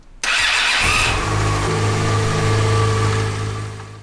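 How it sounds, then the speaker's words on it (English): A motorcycle engine, freshly filled with new oil, fires up with an abrupt start and quickly settles into a steady, loud idle close by. "After giving the bike some fresh oil, it fired up nicely."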